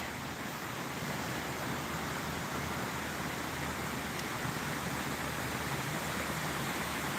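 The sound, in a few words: creek water flowing in a park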